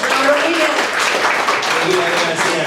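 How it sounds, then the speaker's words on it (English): An audience claps at a community breakfast event, a steady, moderately loud wash of applause lasting a few seconds, with a voice speaking over it. "Let's give him a round of applause."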